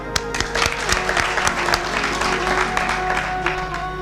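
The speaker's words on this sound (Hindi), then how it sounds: "इन सब के लिए तालियां।" Audience at a Hindu religious discourse gathering applauds, a dense burst of many hands clapping, moderately loud and steady, with some crowd murmur underneath.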